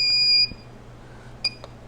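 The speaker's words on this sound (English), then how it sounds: "The humidity alarm keeps going off." An egg incubator's humidity alarm sounds nearby as a sharp, high electronic beep, then gives a second short beep after a brief quiet pause.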